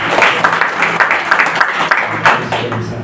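Crowd clapping at a public meeting in Malang, a dense, continuous wash of applause that stays loud and even for several seconds.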